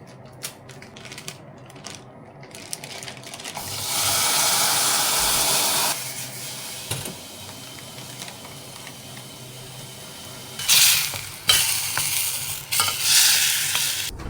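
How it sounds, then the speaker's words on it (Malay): Side dishes reheating in a pan for a predawn sahur meal in Ramadan, with rattling stirring and scraping giving way to a steady sizzle that stops, then returns in louder bursts near the end. "sekarang ni kita nak panaskan lauk"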